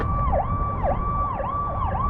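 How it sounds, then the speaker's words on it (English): An emergency vehicle siren wails in a steady repeating pattern, each cycle swooping down and back up about every half second, heard loud and close over low road rumble from a flatbed straight truck driving toward snowy weather. "Interesting sounding siren."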